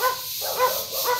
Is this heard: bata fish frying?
no